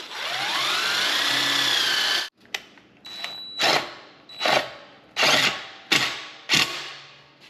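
A drill whirs steadily for about two seconds, then drives sheet metal screws into a welding fume extractor collar in a series of short, sharp bursts.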